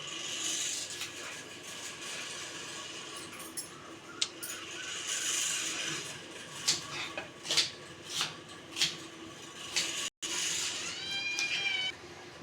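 A pet cat meows repeatedly in a home kitchen while chicken is being cooked, its calls rising clearly above background clatter, with a few clinks of dishes.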